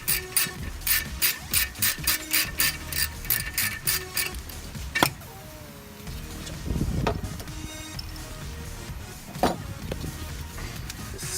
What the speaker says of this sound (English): All you really have to do is just remove the bottom bolt, and you can loosen the one at the top.